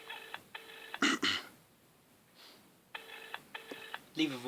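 A telephone rings in repeated double bursts, two pairs of electronic tones separated by a pause. Voices and other noises come in between the rings.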